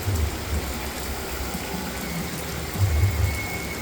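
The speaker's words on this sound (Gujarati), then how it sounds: "અત્યારે ફરીથી વરસાદ પાછો વધ્યો." Heavy rain falling at night, a dense, steady hiss of downpour with low rumbling swells at the start and near the end, close and unbroken, no voices.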